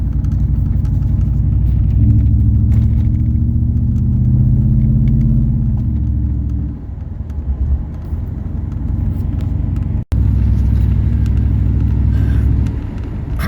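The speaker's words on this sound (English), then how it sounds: "The truck seems to be driving pretty well overall" A 1994 Ford Lightning pickup with a Coyote engine rumbles steadily at close range while driving, low and continuous, with a brief dip midway and a sharp dropout near the end.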